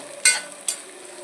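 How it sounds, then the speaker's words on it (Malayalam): Grated coconut and small shallots fry in a pan with a steady low sizzle, broken by two brief stirring scrapes close by. "ഈ തേങ്ങ മൂക്കണതിനൊപ്പം തന്നെ ചെറിയ ഉള്ളിയും കൂടി നമുക്ക് ഇട്ട് കൊടുക്കാം"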